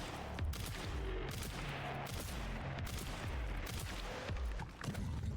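Rapid shotgun and handgun gunfire in Resident Evil Requiem, a close, loud string of sharp shots in quick succession with heavier booming blasts, firing almost continuously throughout.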